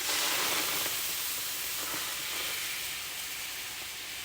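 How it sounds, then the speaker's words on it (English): Loud, steady hissing and sizzling of water steaming on a hot griddle, fading slightly toward the end with faint crackles. "I let all that steam, this steam, boil up all that unnecessary gooky."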